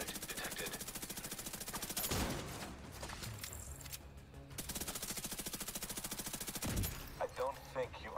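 Rogue assault turret in The Division 2 firing rapid automatic bursts, a steady rattling stream of shots with brief pauses, loud and close amid game sounds.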